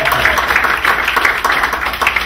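Comedy club crowd applauding, loud and dense, a continuous patter of many hands with slight swells, no talking over it.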